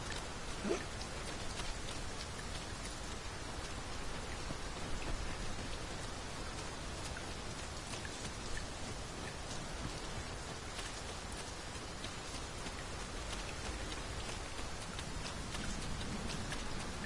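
Steady rain pours down in the Dragon's Dogma 2 video game near a campsite, a dense, even hiss of drops on surfaces that continues unbroken and alone, with no talk.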